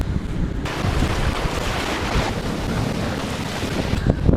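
Rough surf and swell at a New Zealand beach churned by rising wind, a loud continuous roar of breaking waves with heavy wind buffeting the microphone throughout.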